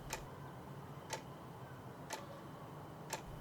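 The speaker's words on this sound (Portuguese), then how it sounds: "o som abafado de um relógio, aquele tic-tac lento que parecia ocupar a casa toda nas madrugadas silenciosas" Slow, muffled ticking of a house clock at night, four soft, evenly spaced ticks about a second apart over a faint steady room hiss, with no other sounds.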